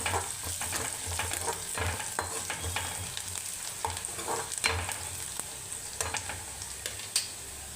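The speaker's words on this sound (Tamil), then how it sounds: "இப்போ வதக்கி விட்டுறலாம்." Onions with turmeric being sautéed in a pan for dried-fish thokku: a continuous close sizzle of frying under repeated scraping and clinking stirs of a spatula, steady and fairly loud, with no talking.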